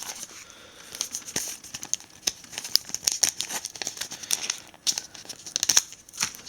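Small paper leaflets from an HTC Touch II phone box being crinkled and handled up close, a continuous run of crisp rustles and sharp crackling bursts with no talking.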